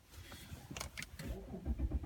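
An Audi A8 D3 engine cranks over and catches, settling into a low idle rumble at close range after a brief starter whir.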